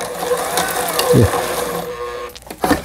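A Brother SF3700 sewing machine runs a wide zigzag stitch after repair, giving a steady close mechanical whir with rhythmic clicking from the needle and feed for a few seconds, without talk.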